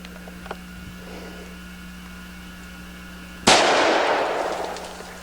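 A single sharp, loud gunshot from a necked-down 460 Rowland firing a 155 grain bullet cracks after a few quiet seconds and rings off in a fading echo.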